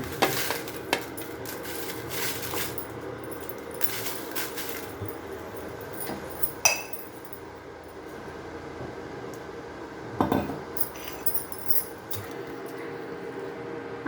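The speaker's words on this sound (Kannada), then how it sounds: "ಸಾಸಿವೆ ಕಾಳು ಹಾಕ್ತಾ ಇದ್ದೀನಿ ಸಾಸಿವೆ ಒಗ್ಗರಣೆ ಸಾಸಿವೆ ಹಾಕ್ತಾ ಇದ್ದೀನಿ" Mustard seeds dropped into hot oil for tempering, alongside dry red chillies, hiss and sizzle steadily while a spoon occasionally clinks and scrapes the pan, with no talking.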